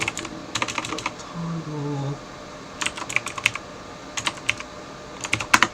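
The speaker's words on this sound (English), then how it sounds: "hopefully you guys will enjoy watching me type some stuff" Typing on a computer keyboard while coding, with bursts of quick, close key clicks separated by short pauses and a faint low hum in between.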